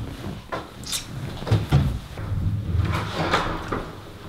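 A door in a home is handled and pulled open, giving a series of wooden knocks, clicks and soft thumps spread over a few seconds, close by and with no voices.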